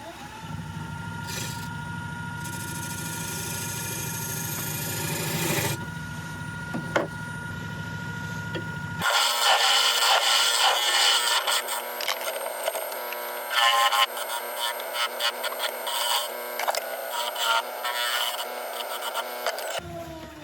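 A woodturning lathe cutting a recess into a spinning wooden bowl with an epoxy resin inlay, a loud steady motor hum under a sustained scraping rasp that turns into a brighter, choppier cutting chatter midway.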